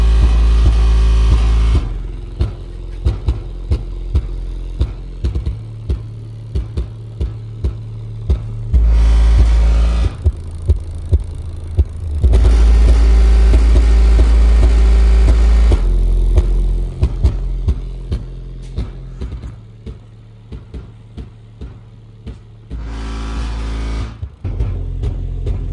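Sundown ZV6 subwoofer playing a bass test: heavy, very low booming tones in several long sustained blocks, with rattling and clatter between them, loud and close.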